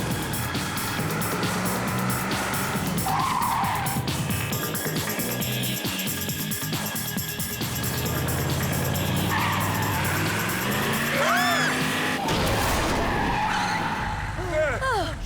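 Rally car skidding with squealing tires during hard driving, a loud continuous engine and tire roar with sharp squeal bursts, heard up close and mixed with voices and dramatic sound effects.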